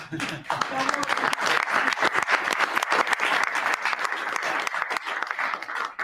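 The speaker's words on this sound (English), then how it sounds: "The press actually broke out in applause." Members of the press break into applause at a presidential Cabinet meeting. Brisk, close clapping runs throughout with strong individual claps, and voices can be heard talking over it at times.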